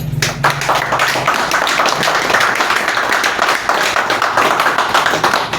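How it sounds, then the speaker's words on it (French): Loud crowd clapping at an electoral list revision event in Ntoum, a dense sustained patter of many hands, close and constant. "Là, vous avez applaudi pour le gouvernement"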